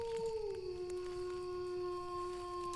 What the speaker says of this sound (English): I love how long the howl is on this howl